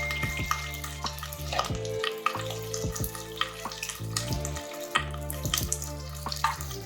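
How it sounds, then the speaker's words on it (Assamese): Jackfruit pieces frying in a pan over a medium gas flame, a steady sizzle with repeated stirring scrapes and clinks close by, no speech. "এতিয়া গেছৰ মিডিয়াম ফ্লেমত কঁঠালৰ টুকুৰাখিনি 5 মিনিটমান সময়ৰ বাবে ভাজি ল'ম।"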